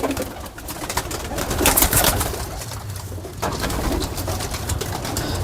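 Old-bloodline Teddy pigeons coo repeatedly in throaty, overlapping bursts amid rustling and wing movement, fairly close and steady throughout, with no voices.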